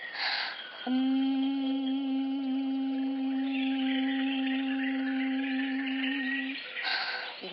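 A person hums one long, steady, nasal tone for several seconds, imitating the drone of buzzing bees, with fingers closing the ears, brief breaths or sounds at either end.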